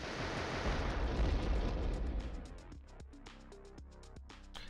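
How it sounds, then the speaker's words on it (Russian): An explosive crate blows up in the PS1 game Trap Gunner: a loud, rumbling blast booms and slowly decays, followed by a string of quick, bright game sound effects and tones. "Мощный взрыв."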